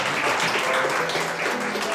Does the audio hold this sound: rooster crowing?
no